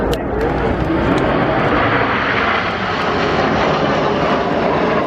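Red Arrows jets at an air show flying past in Concorde formation, a loud continuous broadband roar of jet engines that holds steady throughout with no pauses.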